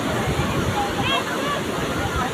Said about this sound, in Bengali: ভালোই ঢেউ আছে আজকে।